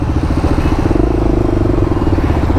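A group of motorcycles rides off together on the way to Rajwada Palace, a loud, continuous rumbling engine drone with rhythmic throbbing and clatter, close by with no talk.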